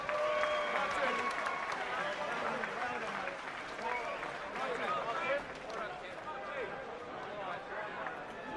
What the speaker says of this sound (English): And a big round of applause for Lincoln's Kevin Hammond.